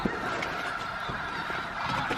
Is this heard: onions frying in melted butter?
no